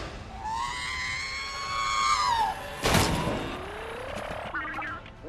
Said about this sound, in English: does anyone know if R2-D2 was using a Force scream here?